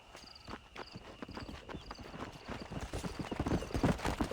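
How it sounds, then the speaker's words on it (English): A horse in the Red Dead Redemption video game clip-clops along in steady hoofbeats, quiet at first and growing louder and closer over a few seconds, with no talking. "my horse tried to run me over"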